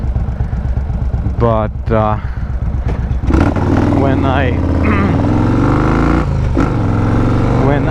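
A Yamaha Warrior 1700 motorcycle exhaust rumbles and revs up loudly while someone talks briefly over it near the start.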